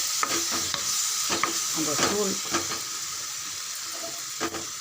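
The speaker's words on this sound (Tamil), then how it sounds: "அந்த மிளகாத்தூள் கூடயே தக்காளி நல்லா வதங்கட்டும்." Ground tomato and chili powder sizzle and sauté in a hot pan as a spoon stirs, with repeated scraping strokes and light taps over a steady hiss; a single word is spoken briefly.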